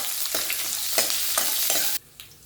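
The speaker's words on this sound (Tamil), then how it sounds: "இப்போ இதுலேயே ஒரு 6லேருந்து 7 சின்ன வெங்காயம் கட் பண்ணி ஆட் பண்ணிக்கிறேன். இதையும் சேர்த்து நல்லா வதக்கிக்குவோம்." Small shallots sautéing in a pan for hotel-style tiffin sambar, a loud, dense sizzle punctuated by several quick stirring scrapes before dropping suddenly quieter near the end.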